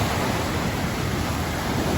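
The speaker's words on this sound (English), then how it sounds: "The waves gently lap against the sand, creating a soothing rhythm." Steady ocean surf washing against a sandy shore, a continuous broadband rush of water with no distinct breaks or voices, even and unbroken throughout.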